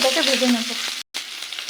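Cumin seeds crackling in hot oil in a wok for egg poach curry, a brief bright sizzle with a short gap before the frying noise resumes.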